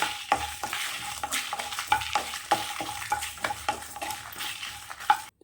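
Coriander, cumin, black pepper, cinnamon, cloves, fennel and dried red chillies dry-roast in a pan. A spatula scrapes and rustles them in a quick, repeated rhythm, with a faint sizzle underneath and no voices.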